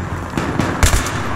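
Gunfire in the Battlefield 3 Ziba Tower map: a few quick, sharp cracks, with the loudest pair of shots near the end of the short burst.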